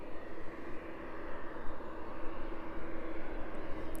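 An Embraer jet arrives at East Midlands Airport, a low, steady engine rumble heard from some distance, fairly faint and constant throughout, without voices.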